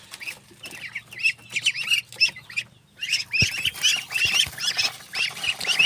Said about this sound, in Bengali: হাঁসের বাচ্চা খাবার খাচ্ছে।